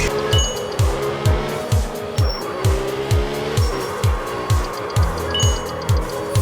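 A car drifting in a racing video game, engine revving in steady repeated surges with tire squeal sliding over it, loud and continuous with no voices.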